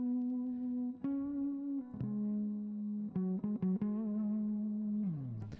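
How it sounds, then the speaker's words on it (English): A headless DIY electric guitar played through distortion and effects pedals gives sustained, buzzing single notes and short bends, with a few sharp pick attacks and a sliding drop at the end. "I think this guitar sounds pretty good for what it is"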